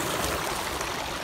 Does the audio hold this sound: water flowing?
yes